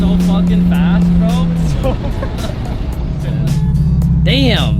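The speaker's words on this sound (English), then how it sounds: "that's a fast car" A 600hp Mitsubishi Evo 8 roars loud and close, its engine note climbing hard through the revs, dipping briefly and surging again, with voices talking over it.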